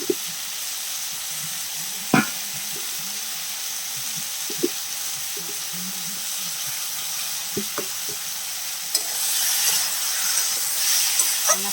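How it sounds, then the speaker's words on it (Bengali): Potatoes and eggplant frying in a pan for an ilish fish curry, a steady close sizzle with occasional sharp scrapes and clinks of stirring, and a louder hissing surge near the end. "আলুটাকে ভালো করে বন্ধুরা আমি কষে নিচ্ছি বেগুন আর আলুটাকে"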